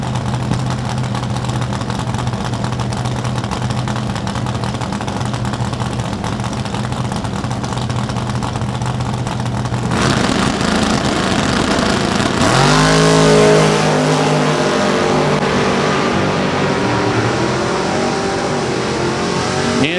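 Drag race cars, among them a 1966 Nova, rumble at the start line during a divisional final at Lucas Oil Raceway, then loud engines burst into a roaring launch and accelerate away.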